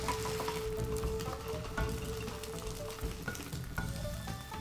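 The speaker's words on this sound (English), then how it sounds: "drop in a bit of the egg mixture and make sure it sizzles" Tamagoyaki egg mixture sizzles in a hot pan, a close, steady frying hiss with crackles and faint utensil scrapes throughout, and no voices.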